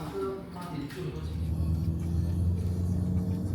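Engine rumble and road noise from inside a Toyota Noah ride-hailing car driving in Singapore, a steady low drone that holds throughout with no talk.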